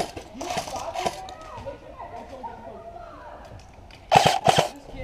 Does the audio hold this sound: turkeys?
no